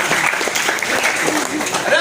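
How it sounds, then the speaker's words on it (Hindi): A street-theatre crowd at a nukkad natak claps in a short burst, dense and close, with voices mixed in. "अरे जमूरे तालियां बज गई"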